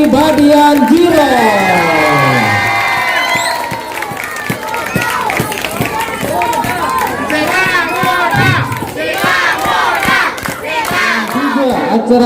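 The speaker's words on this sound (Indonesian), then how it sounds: "tepuk tangannya yang gemuruh" A crowd at a volleyball tournament prize-giving cheers and shouts loudly and continuously, with many excited voices rising and falling over a dense roar.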